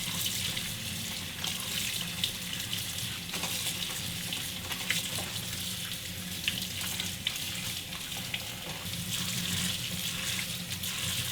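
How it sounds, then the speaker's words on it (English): Cooked noodles for Korean beef noodle soup being rubbed clean under a running kitchen tap, a steady close rush of water with faint scrubbing and splashing throughout, no voices. "Okay, let's wash noodles."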